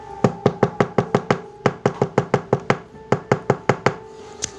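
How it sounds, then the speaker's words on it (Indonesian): Rapid, loud knocking on a wooden door, close by, in several quick bursts of about five to six raps each with short pauses between, no talk over it. ""Mak, mak, mak, bukain pintu, mak!" teriak Iman mengetuk pintu"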